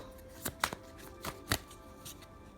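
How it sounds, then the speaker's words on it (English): Soft, quiet oracle card shuffling: a handful of brief riffling bursts spaced irregularly over a faint background. "I'm going to shuffle, okay?"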